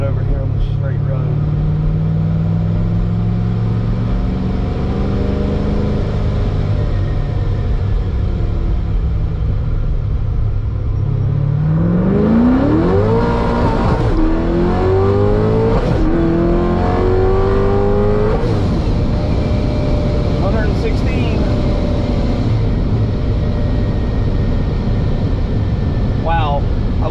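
A Corvette GenV Z06 with Holley EFI port injection accelerates hard on a straight road, its engine climbing in pitch through several gears, loud and close beneath someone talking.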